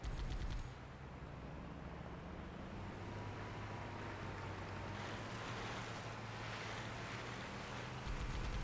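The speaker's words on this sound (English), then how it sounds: "Water effects, awesome." Video game waterfall water effect, a continuous broad rushing roar with a low rumble, steady and fairly loud from start to end.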